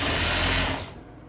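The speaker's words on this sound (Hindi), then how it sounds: "यहीं पे हम सिलाई करेंगे दोस्तों।" Electric sewing machine stitching a ladies suit, a loud close whirring run that stops abruptly after under a second, leaving quiet room tone.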